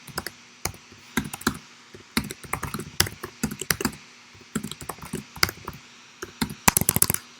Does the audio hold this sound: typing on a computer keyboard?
yes